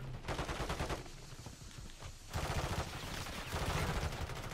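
Full-auto M16 rifle fire in Modern Warfare 3, rapid sustained bursts with a short lull midway before the stream of shots resumes, loud and close.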